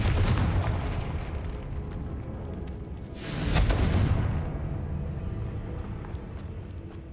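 A Confringo spell explosion in the video game Hogwarts Legacy, a loud broad burst bursting out midway over continuous rumbling combat noise, then trailing off into a lingering roar.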